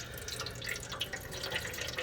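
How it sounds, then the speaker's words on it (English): Water being poured into a tub for a ball python, a steady close splashing and trickling stream with bubbly droplet texture, alone and fairly quiet. "So this time I'm gonna add the water first."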